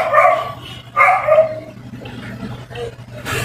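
Several pet dogs and a puppy bark close by in short bursts, with yips and a whimpering tone, loud at first and then settling into quieter, scattered barking.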